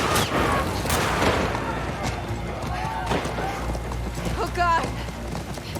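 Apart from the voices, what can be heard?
horse galloping in video game The Last of Us Part II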